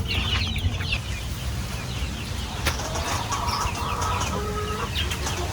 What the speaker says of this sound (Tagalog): kumakain na po yung ating mga alagang manok